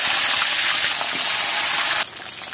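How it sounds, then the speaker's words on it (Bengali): Hilsa fish dropped into hot oil, a loud dense hiss of frying that holds steady, then drops sharply in level near the end. "তেলটা গরম হয়ে গেছে, এখন আমরা ইলিশ মাছগুলোকে দিয়ে নিব।"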